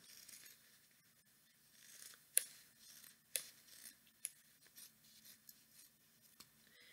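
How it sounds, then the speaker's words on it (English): Scissors snip through recycled fabric while cutting out heart shapes, a quiet, close rustle with a few sharper distinct snips spaced a second or so apart. "I'm cutting out hearts because I always use hearts"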